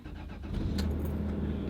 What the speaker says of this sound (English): take a listen to the engine as we start it up